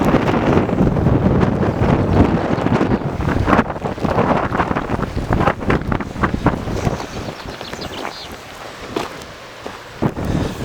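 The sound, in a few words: strong wind on the moors hitting the camera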